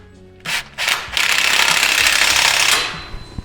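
A 13 mm ratchet wrench snugs down a factory ball flare on a 2019-2024 Chevy/GMC 5.3L exhaust, with two short ratchet bursts followed by a longer, loud continuous clicking run that tapers off.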